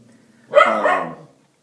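A single dog gives one short, loud bark with a brief whining tail, close by in an otherwise quiet indoor room.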